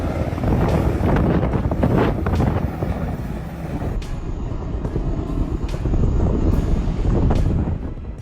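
A Boeing Chinook helicopter flying for helicopter logging over remote forest, a loud, continuous low rotor and engine rumble mixed with heavy wind buffeting and no voices.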